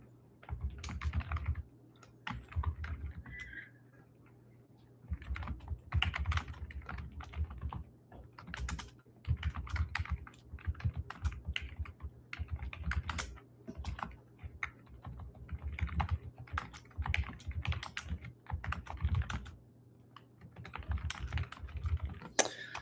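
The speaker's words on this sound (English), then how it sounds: "Hopefully you don't hear the clicky and clanking of the keyboard." Clicky computer keyboard typed in irregular bursts of keystrokes with short pauses, close and fairly quiet, with no voices.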